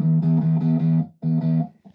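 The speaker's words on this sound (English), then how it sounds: "the guitar will sound totally different if we put it on the orange setting in modern" An electric guitar played through a Fender amp on the orange modern setting rings out in two bursts of sustained, distorted chords with a short gap between them.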